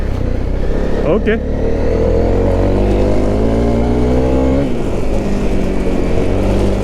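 A motorcycle fitted with Pirelli XC Mid Hard tyres rumbles steadily on gravel, then revs sharply with rising pitch that drops after a few seconds, while a rider speaks briefly.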